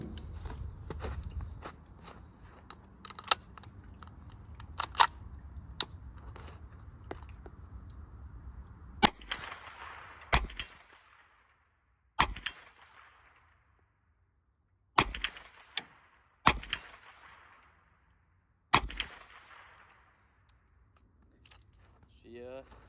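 Several single rifle shots from a Marlin Camp 9 fired at a target about 45 yards away outdoors, sharp isolated cracks spaced a few seconds apart with ringing tails, under quiet background noise.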